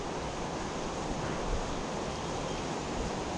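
Fast-flowing stream water rushing steadily in North Carolina trout country, a constant broadband wash of current with no breaks, close and fairly loud, no voices.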